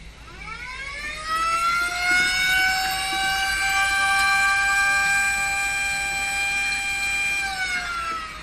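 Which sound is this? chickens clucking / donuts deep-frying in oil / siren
siren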